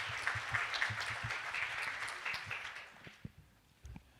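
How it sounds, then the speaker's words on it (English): Applause from an audience welcoming the US Ambassador to Thailand at a Thai-American friendship commemorative event, a moderate round of clapping in a hall that thins out and fades toward the end. "Please welcome His Excellency with a big round of applause."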